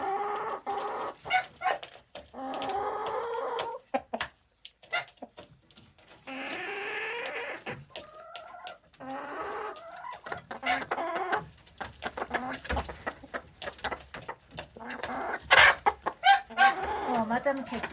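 Hens, some of them featherless, cluck and squawk in a busy farmyard flock, with bursts of louder calls over a steady mix of clucking and frequent sharp knocks and scuffles.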